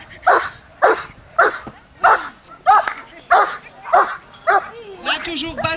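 A dog barks during a bite-work demonstration at a dog club's fête, where the dog bites a protective sleeve on the arm. About nine loud, close barks come at a steady, rhythmic pace, ending in a short whine.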